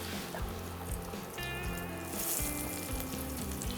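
Ridge gourd hits a pan containing a little water and sizzles in a steady, fairly soft hiss that lasts several seconds, over a low rumble of background noise.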